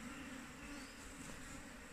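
Honeybees from a young colony buzz steadily at an open beehive, a dense, even drone close by with no talking.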